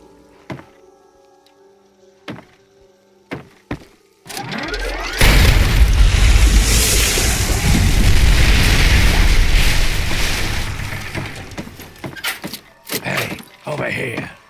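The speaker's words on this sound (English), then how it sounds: "It looks like an explosion should do the trick." A loud explosion blocking off a hole in Fallout: Tale of Two Wastelands, a sustained roaring blast lasting several seconds, preceded by scattered thumps and knocks and trailed by more sharp impacts.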